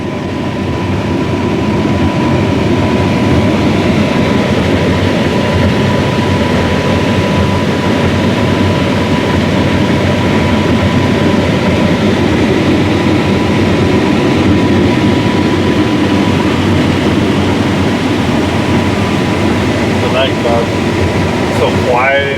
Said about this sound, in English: CLAAS makes a really good combine.